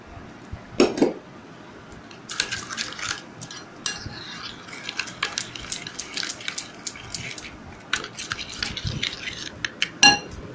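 A spoon working spices and about a teaspoon of sugar together in a bowl for a steamed hilsa dish, giving steady scraping and light clinking strokes in quick irregular rhythm, close and fairly loud, with no talk.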